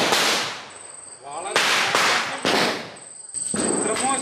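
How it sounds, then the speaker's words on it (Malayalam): Firecrackers set off during a Vishu celebration burst in a quick series of about five sharp, loud bangs at close range, with a thin whistling tone between them. "ഫസ്റ്റ് പടക്കം വളരെ മോശം."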